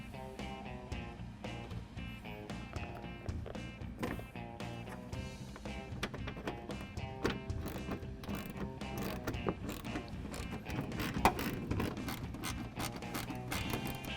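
Factory screws going back into a vehicle fender while LED lighted fender flares are being fitted make quick repeated ratcheting clicks and small mechanical rattles, close but fairly quiet, with no voices.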